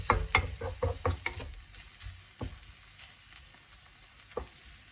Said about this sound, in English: Right, my prawns are starting to colour. Let's mix it all around.